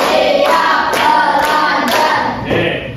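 Sharp, rhythmic hand claps from a classroom counting game sound at an even pace of roughly two per second, five distinct loud claps close by, with no talking over them.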